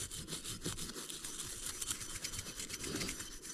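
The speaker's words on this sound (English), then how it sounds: "put it on your used toothbrush, and then you just start by scrubbing the thing down." A used toothbrush loaded with gun oil scrubs a gummed-up Jimenez Arms .380 pistol, producing a steady, close, rapid rhythmic bristle scratching that continues quietly without pause.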